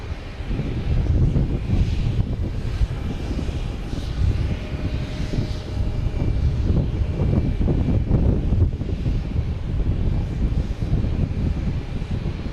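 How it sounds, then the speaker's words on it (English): Strong, steady wind buffets the microphone at Logan Airport throughout, a loud low rumble with gusty surges, over a faint distant drone. "Turn some of the wind down, very windy out here."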